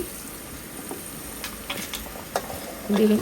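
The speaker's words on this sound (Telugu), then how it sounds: "ఈ వన్ బై వన్ వేసేసుకొని కలుపుకోవాలి" Potato, beans and tomato pieces stirred into hot frying oil in a pan, giving a steady close sizzle with soft scraping stirs and a louder burst near the end.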